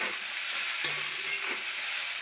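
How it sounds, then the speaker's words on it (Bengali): Onions sizzle in hot oil while a spatula stirs them, a brief steady frying hiss with a soft scrape of stirring partway through. "তো পেঁয়াজগুলো একটু লাল লাল ভাজা হয়ে গেলে"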